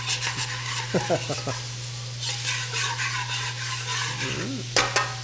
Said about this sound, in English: So you can feel free to lightly scrape the bottom of the pan unless you've burned it.